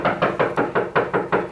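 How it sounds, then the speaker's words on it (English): Eight quick, evenly spaced knocks on a door, loud and close, rapping at a steady rhythm with nothing else around them. "Knock. The doorbell rings."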